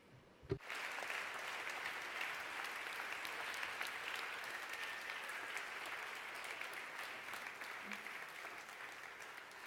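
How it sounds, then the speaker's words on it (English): Indoor hall audience applause for event volunteers called onto a stage at a Vienna talk event, a sharp onset followed by sustained, even clapping from a sizeable crowd, fairly distant and steady. "let's give them a big round of applause"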